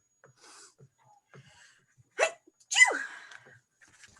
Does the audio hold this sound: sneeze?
yes